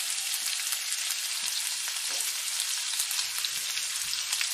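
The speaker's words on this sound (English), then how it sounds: "I have the meat going in the stove. I'm going to add that oil to it." Meat browning in hot oil in a pan on a stovetop for spicy sweet sloppy joes, giving a steady, dense, close sizzle that runs unbroken throughout with no talk.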